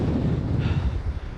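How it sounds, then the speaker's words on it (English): Strong wind outdoors on a storm-chasing trip in open mountain country, a loud, constant roaring buffet of gusts battering the microphone with deep rumbling low end, alone without talk. "it's really windy"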